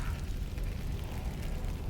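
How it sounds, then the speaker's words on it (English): Fire in the Alone in the Dark video game makes a steady low roar and crackle, continuous and fairly loud with no voices over it. "I hear some fire, though."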